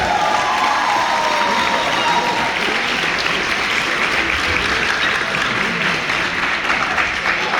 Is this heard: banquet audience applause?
yes